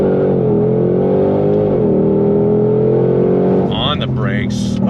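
A Ford Shelby GT500 Mustang, S550 generation, accelerates hard on throttle, its loud, steady engine note rising continuously from up close, with a brief shift in pitch midway and more strain near the end.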